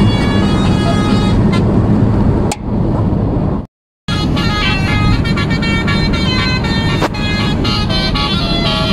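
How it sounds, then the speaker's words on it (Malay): A container lorry on a road near Kuantan: loud, constant heavy-traffic roar with tonal horn-like blasts, a brief dip and a momentary dropout, then the dense rumble resumes. "Lori kontena."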